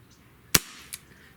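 One sharp, close crack from an S&W 586 pellet revolver firing a 7-grain lead pellet, followed a moment later by a softer, shorter snap, then quiet.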